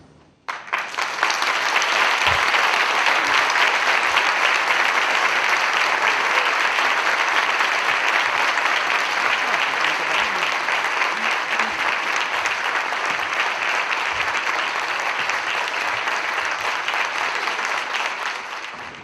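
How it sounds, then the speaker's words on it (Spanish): Sustained, heavy applause from a large audience at a cultural talk, rising quickly and staying dense and even for well over fifteen seconds before easing off. "Creo que el aplauso lo dice todo."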